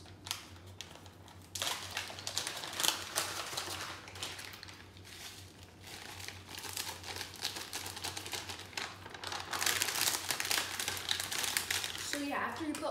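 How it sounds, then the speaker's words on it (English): Crinkly, crumbly rustling of Parmesan crisps being placed and shifted by hand, irregular light crackles close by under steady background noise, with a voice speaking intermittently. "now we put on my favorite, the Parmesan crisps"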